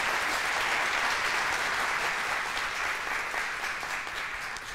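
A game-show studio audience claps steadily throughout, a dense, even roar of many hands that stays loud and then eases slightly toward the end, with no speech over it.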